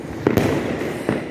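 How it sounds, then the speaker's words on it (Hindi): Diwali firework rockets go off outdoors with sharp cracks and whooshing bursts over a continuous noisy background of festival crackle, two distinct pops close together and another a moment later. "तो ये चलेगा सेकंड रॉकेट।"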